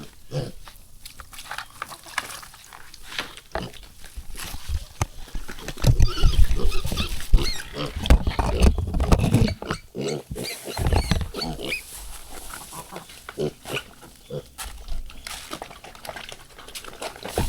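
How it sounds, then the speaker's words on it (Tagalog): Piglets squealing and grunting at feeding time on a Philippine farm, a busy, restless chorus of squeals and snorts that swells in the middle, close by and with no talk. "Kain muna tayo ng mga biik."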